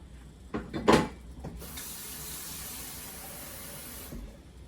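Cool water flows from a sink tap into a container while lye water is prepared, a steady, soft hiss of running water that follows a few clunks of handling and stops abruptly near the end.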